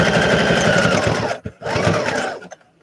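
A sewing machine runs loud and close, stitching a dense decorative pattern in a busy chugging burst, pausing briefly, then resuming before winding down.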